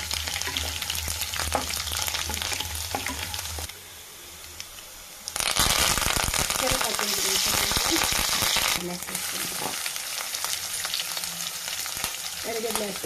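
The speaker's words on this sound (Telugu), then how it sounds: "జీలకర్ర, సాసవలు, మినపప్పు, శనగపప్పు వేసుకున్నాను. ఇది కొంచెం ఫ్రై బాగా కావాలి." Cumin, mustard seeds, urad dal and chana dal frying in hot oil, a dense crackling sizzle with stirring, briefly quieter midway then louder again, no voices.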